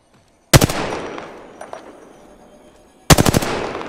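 A Kraber sniper rifle fires in a video game: two loud, sharp shots about two and a half seconds apart, each followed by a short rumbling tail, with quiet game ambience between them.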